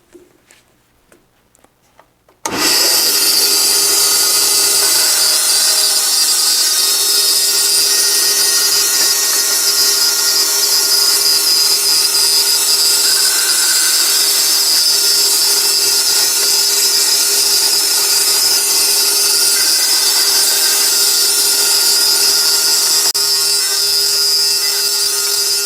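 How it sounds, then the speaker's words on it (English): Bandsaw slicing wood segments against a miter gauge and factory fence, starting up abruptly after a brief quiet and then running as a loud, steady whine with cutting noise for over twenty seconds, no talking. "even cut on the bandsaw using a simple miter gauge and the simple factory fence on this saw"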